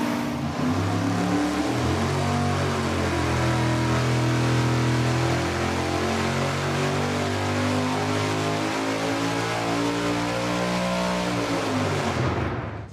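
A high-powered race engine warming up on a dynamometer, a loud, steady near roar holding at a constant pitch for the whole stretch before cutting off at the end, no talk.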